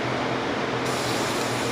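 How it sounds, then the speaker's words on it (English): An aerosol spray paint can hisses steadily and continuously while coating an appliance part, a close, even broadband spray with no break in the sound. "if you're spray painting like this"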